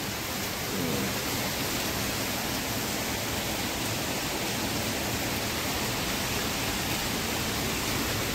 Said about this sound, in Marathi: हे बघा कंटिन्युअसली पाऊस चालू आहे आमच्याकडे